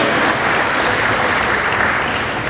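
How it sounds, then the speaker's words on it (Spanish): Sustained applause from a large audience at a Buenos Aires book fair honouring Paraguay's consul general, a dense wash of clapping, steady and loud throughout without any break. "Un aplauso para él."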